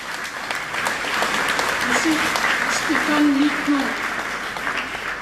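Festival audience applauding the award-winning 2018 short film L'Allée des Jasmins, with steady crowd clapping under a voice talking over it.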